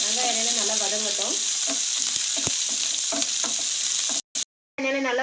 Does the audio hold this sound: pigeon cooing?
no